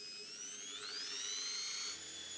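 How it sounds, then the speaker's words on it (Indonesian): A power drill boring a pipe hole through a wall for a split air conditioner installation, a steady loud high whine that rises in pitch as the bit spins up, then drops slightly near the end. "Hentikan pekerjaan ketika ujung bor menembus"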